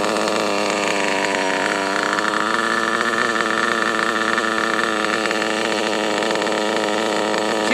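A small engine idles steadily right after carburetor tuning on a racing setup, holding a loud, even, continuous drone with a fine rapid pulse and no change in pitch throughout.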